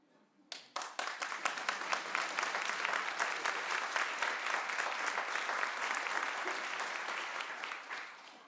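A theatre audience bursts into sustained applause, many hands clapping densely and steadily for several seconds before thinning out at the end, with no voices over it.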